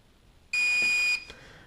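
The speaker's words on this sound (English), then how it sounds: "this is the recording feature, and it'll beep, as you can see here" A Promark VR drone gives a loud, steady electronic beep of about half a second as recording starts, followed by a fainter short blip.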